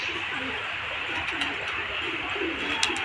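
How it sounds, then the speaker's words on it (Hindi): Soft, throaty cooing of pigeons eating grain repeats close by against a steady background hiss. "बाकी कबूतर दाना खा रहे हैं,"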